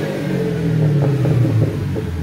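A 2009 BMW 120i convertible with a performance exhaust and sport cat rumbles deeply and rises in pitch as it revs, a throaty exhaust note heard up close.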